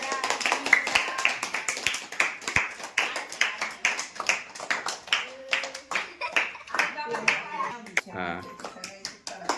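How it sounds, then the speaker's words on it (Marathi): Several people clap along in a quick, uneven rhythm at an eleven-year-old girl's birthday celebration at home, the claps close and bright, while people talk over them. "टाळ्या वाजवा"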